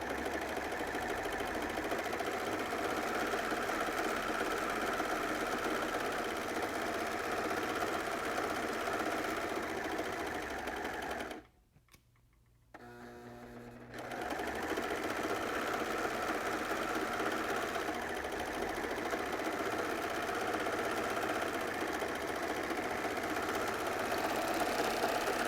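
A serger runs in a loud, rapid, steady buzzing hum as it stitches and trims the edge of fabric, stopping for about two seconds midway before starting up again and running on continuously.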